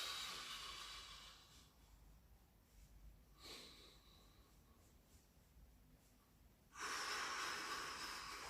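Slow, audible breaths during a guided breathing exercise in a home dojo session, soft airy exhales rising and fading, with a louder breath at the end; quiet and close, no talking.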